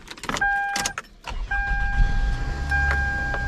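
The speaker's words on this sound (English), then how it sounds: "And let's start up the car." A Toyota Camry engine starting after a few preparatory clicks and chimes, with steady two-tone warning beeps, then a broadband crank and settling idle rumble, close by with no talk.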